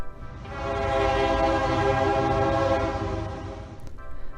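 A Metrolink Antelope Valley Line regional train in Los Angeles County sounds its horn in one long, loud, sustained blast that swells and then fades, with rail rumble underneath.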